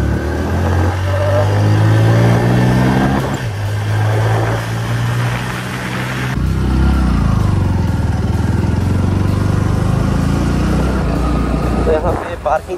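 A motorbike engine runs steadily on the way to a park in Kashmir, a continuous mid-pitched drone with some wind rush, close and fairly loud throughout, with a shift in tone partway through.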